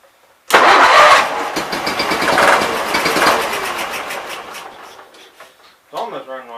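A Case 448 tractor engine cranks and catches with a loud burst just after a carburetor swap, then sputters unevenly, fading and surging as it struggles to keep running on its own, close up.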